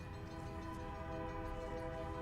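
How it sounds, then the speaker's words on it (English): A steady locomotive train sound effect from the film Fight Club, with a sustained horn-like tonal drone over a dense rumbling rail roar, holding level and loud throughout with no voices. "We also cannot go without mentioning the locomotive sound."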